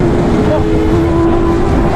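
A Kawasaki ZX10R motorcycle at around 220 km/h accelerating after a speed wobble, its engine a steady droning tone that climbs near the end, buried in heavy wind roar with someone talking over it.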